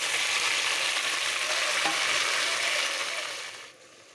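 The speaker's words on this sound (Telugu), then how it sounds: "ఇప్పుడు టమాటా ముక్కలు వేసుకుందాం" Tomato pieces fry with onions and green chillies in a pan, a loud, even sizzle close by that tapers off near the end, with no voices.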